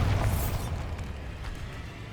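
In Hogwarts Legacy, the Bombarda blasting spell goes off as a single close, booming explosion inside a decaying catacomb, with a deep rumble that fades over about two seconds.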